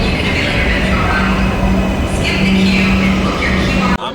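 Metro train at Dum Dum station in Kolkata, heard as a continuous close rumble with a steady low hum and occasional hiss, cutting off abruptly near the end.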